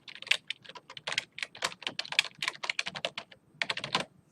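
Rapid typing on a computer keyboard, with dense irregular bursts of crisp key clicks and brief pauses between words, close and alone.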